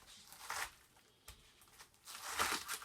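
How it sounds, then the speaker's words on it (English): A knife cuts through a washed, cleaned cabbage to quarter it, giving crisp, crunchy tearing bursts: one near the start, a brief crack in the middle, and a longer crunch toward the end, close by. "you're going to take a cabbage that's washed and cleaned like this is here, and you're going to quarter this up"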